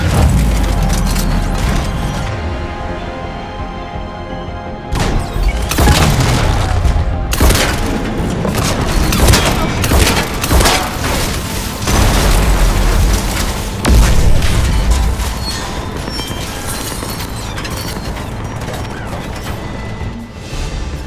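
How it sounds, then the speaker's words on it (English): Heavy cannon blasts in Mass Effect 3 go off repeatedly and loudly, layered over a dense, rumbling game soundscape with clanking mechanical noise and crashes. "Cannons engaged."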